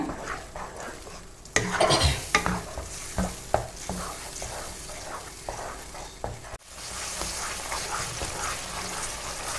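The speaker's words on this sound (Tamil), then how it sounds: "நல்லா கலந்து விட்டுகிட்டே இருங்க." Mukkani halwa, a sweet made with three fruits, is stirred in a pan, giving repeated scraping and wet sloshing strokes over a soft sizzle of thick cooking mixture, moderately close with no voices.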